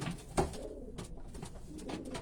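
A cross-bred racing pigeon coos softly at close range, low throaty calls in a loft with faint rustling around it.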